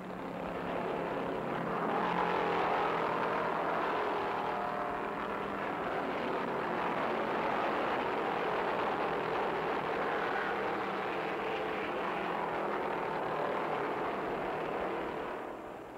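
A pack of 1973 Winston Cup stock cars roaring into turn 2 during the Rebel 500, a continuous, distant, blended engine drone that swells and holds, alone without talk.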